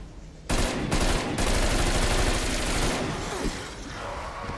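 Rapid, close automatic gunfire in Call of Duty Cold War Zombies on the Die Maschine map, starting with a few distinct bursts and then running into a sustained, loud stream of shots that eases off toward the end.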